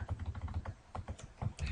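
Quick, close keystrokes tap out code on a computer keyboard in the NetBeans IDE, a brief burst of rapid, uneven clicks with no talking.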